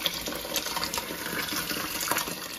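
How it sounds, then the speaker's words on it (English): Tap water runs steadily in a kitchen sink as fresh tomatoes are rinsed, a continuous close splashing gush with small bursts where the stream hits the fruit. "I'm gonna wash the tomatoes off, put them on here. That's just water."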